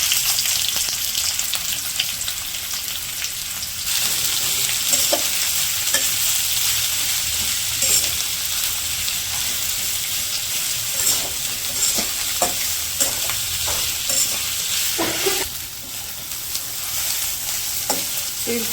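Onions fry in soybean oil in a pan with beef tripe, cardamom and bay leaves, giving a steady close sizzle broken by repeated scraping stirs of a utensil.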